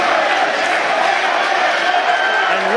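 A wrestling arena crowd at an IWC event roars and cheers in a steady, dense wash of voices, loud and sustained throughout with no break.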